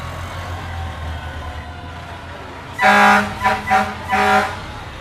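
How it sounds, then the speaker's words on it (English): Edmond Fire Department fire engines at a LibertyFest parade blasting their horns: several loud blaring honks in quick succession, close by, following a stretch of low idling rumble. "Now it's going to get a little loud here as the engines come by."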